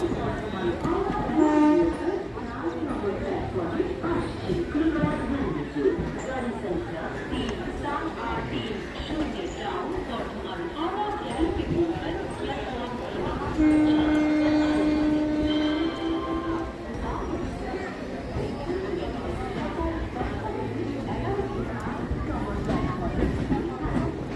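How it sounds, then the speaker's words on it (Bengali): The Kathgodam–Howrah Bagh Express (13020), hauled by a WAP-4 electric locomotive, stands at platform seven of a busy station. A low rail rumble and a sustained horn-like tone come through under constant crowd talk. "দাঁড়িয়ে আছে one three zero two zero Kathgodam Howrah bug express"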